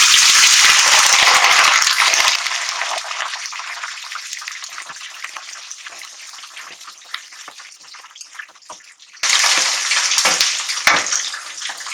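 Chicken pieces dropped into hot oil for a Peshawari chicken karahi give a loud, close, hissing sizzle that eases off, then surges sharply again near the end, with no talk over it.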